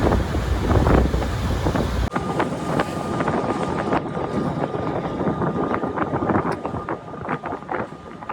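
Ferry crossing a river midstream, with a steady engine drone and gusty wind buffeting the microphone throughout, a low rumble continuing after a sharp shift partway through.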